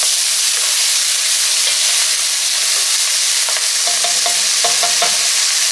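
Chili stirred in a pot over high heat, a steady loud sizzle and hiss of frying with scattered scraping and clinking from the spoon against the bottom of the pot, no talk.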